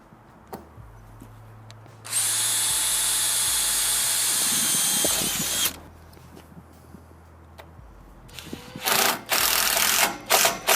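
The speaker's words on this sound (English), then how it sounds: "I'm going to drill pilot holes for the screws first because the steel is pretty thick." A power drill bores pilot holes for screws into thick steel plate, one steady high whine of about three seconds with a lower motor hum before it. Shorter bursts of tool noise and clatter follow near the end.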